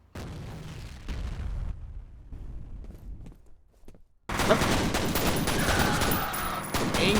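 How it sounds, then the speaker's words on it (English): A grenade goes off in a sudden loud blast that lands after a stretch of scattered gunfire and quieter gaps, followed by a sustained roar of noise. "Oh, it's a grenade."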